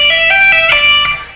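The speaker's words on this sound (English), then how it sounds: "And then we're going to pull off the same note" Overdriven electric guitar plays a quick legato lick in G pentatonic, rapid pull-offs and hammered notes flowing together in a bright, sustained lead tone, loud and close with no talk over it.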